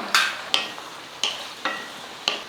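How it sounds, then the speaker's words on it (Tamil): Sharp scraping strokes of a spoon stirring onions and tomatoes sautéing in a pan, five distinct clanks spaced irregularly, each trailing into a brief sizzle. "இப்போ எல்லாம் சேர்த்து நல்லா வதக்கிக்கலாம்"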